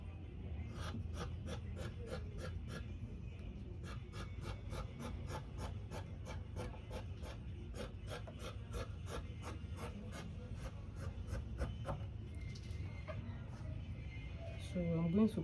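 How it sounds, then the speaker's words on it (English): Scissors cutting out fabric for a sewn top, steady rhythmic snipping and rasping close by, a long run of regular quiet cuts with faint breathing and no talk. "So I'll be cutting it out now."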